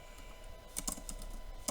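Someone types an Excel formula on a computer keyboard, producing a few soft, scattered keystrokes close by over faint room hum.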